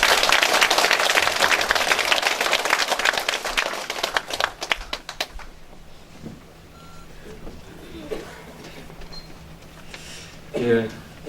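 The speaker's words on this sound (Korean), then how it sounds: "힘찬 박수로 환영해 주십시오" Dense, loud applause from a crowd at a neighborhood town-hall meeting for several seconds, then it thins out and fades into quiet room noise with a few faint sounds.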